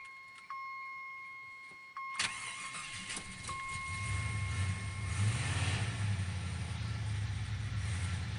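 A Jeep Grand Wagoneer cranks and fires on a cold start after a couple of electronic chimes, the engine catching abruptly and settling into a loud, rough, rumbling idle close by.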